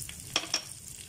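Spices sautéed in a pan for mutton pickle give a soft sizzle with a couple of brief scraping stirs, close and fairly quiet, with no voices.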